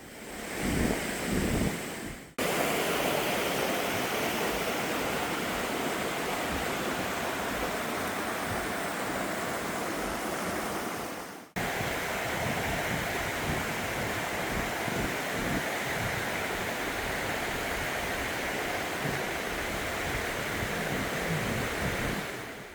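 A full-flowing mountain stream rushes through Gucheondong valley in Muju, a dense, unbroken roar of water heard close and loud, with a brief cut partway through.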